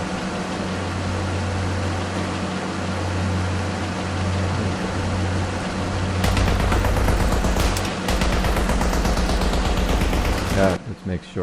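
Five heavy machine guns fire .50 caliber rounds in a space combat video game: a rapid, dense rattle of shots breaks out midway over a constant droning background and continues almost to the end.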